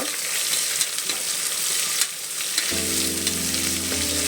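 Sliced onions frying toward golden in a pan, a continuous close sizzle with occasional stirring knocks; partway through a low steady hum joins beneath the crackling.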